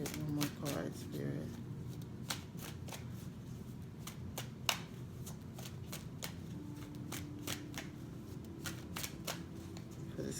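Tarot cards are shuffled quietly, with rapid repeated riffling snaps at close range and a soft voice speaking briefly at the start.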